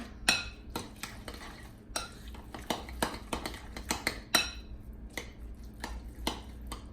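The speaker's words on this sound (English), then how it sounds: "And then stir that in also, making sure all the flavor gets in there." Spoon stirring chopped onion into a thick homemade guacamole dip in a bowl, a steady run of soft wet scrapes and clicks against the bowl, close and fairly quiet.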